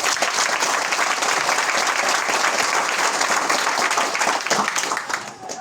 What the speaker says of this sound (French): Je vous demande d'applaudir d'abord.